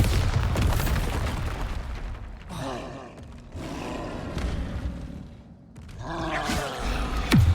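Explosions from the Bombarda spell in Hogwarts Legacy during a battle with a troll, loud booming bursts and rumbling debris that rise and fall across the clip, with breathy gasps mixed in.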